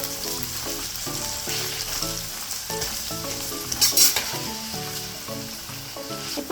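Green chillies and onion sizzling in hot oil for restaurant-style veg noodles, a steady moderate frying hiss with occasional stirring clinks and a brief louder sputter partway through, with background music playing.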